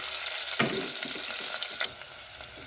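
Onions and green chillies fry in a pan while a spoon stirs them, giving a steady close sizzle broken by a few scraping strokes, with no voices.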